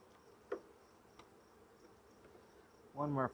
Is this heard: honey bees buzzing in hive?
yes